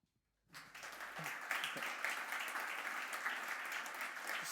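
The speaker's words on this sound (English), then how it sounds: "Big applause for him as well." After a brief silence, an audience at a tech meetup on healthcare data breaks into sustained, moderately loud applause for an incoming speaker, the clapping holding steady to the end.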